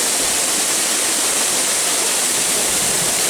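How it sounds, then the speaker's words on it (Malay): A waterfall deep in the Aceh interior roars as a steady, dense, loud wash of falling water with no break, nearby and with no voices over it. "Nah, nampak jelas air terjunnya."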